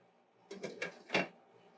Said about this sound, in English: what I'm going to do is I'm going to cover it with the lid